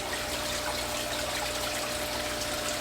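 Water pours steadily into a small aquarium CO2 bubble counter, a continuous close trickling splash with no break and no talking.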